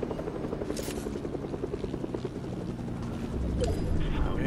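A helicopter in the video game Fortnite beats steadily throughout at moderate loudness, growing slightly louder toward the end, with game effects mixed in.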